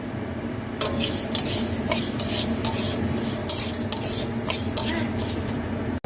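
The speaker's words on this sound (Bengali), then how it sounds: "আর এই হচ্ছে মুসুর ডালটা মুগের ডালের সঙ্গে ভেজে নেবো" Masoor dal and moong dal stirred and fried together in a hot pan, a dense continuous scraping and rattling of dry grains against metal over a low sizzle, loud and close.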